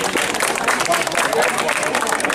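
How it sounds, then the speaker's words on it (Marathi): A crowd at a Durga festival mandal claps together to welcome MP Sanjay Bhau Deshmukh, producing a dense, steady burst of applause, with a voice mixed in. "सगळ्यांनी टाळ्या वाजून स्वागत करूया एक वेळ"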